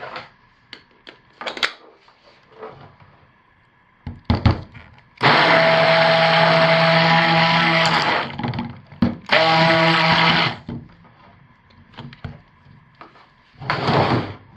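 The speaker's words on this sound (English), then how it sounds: "This will have to be stick blended." Stick blender mixing a batch of cold process soap with mica colorant, two loud sustained whirring bursts of several seconds each, separated by brief pauses and surrounded by clinks and handling noises.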